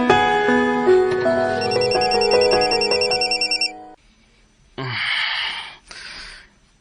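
A mobile phone ringtone plays close and loud, a bright repeating melodic tune with chiming tones that stops abruptly, followed by a couple of short breathy sounds and rustles.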